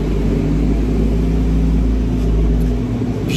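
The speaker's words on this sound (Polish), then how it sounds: "Już jedzie 5 samochodów, to trochę hałasu będzie" Several cars passing on a road, a loud continuous low engine rumble and tire roar that swells slightly toward the end.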